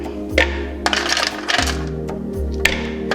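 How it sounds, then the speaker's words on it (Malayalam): Ice cubes for a mint lemon juice drop one after another into a mixer jar, producing hard, bright clinks and rattles in a few distinct bursts, close and clear against a low steady hum. "ഇനി നമ്മൾ ഐസ് ക്യൂബ്സ് ഒരു 5 10 ഇടാം"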